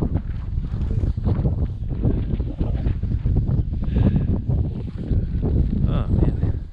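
Strong outdoor wind buffets the microphone in a steady loud roar throughout, at the end of a day's hunt while gear is packed up, with voices speaking over it.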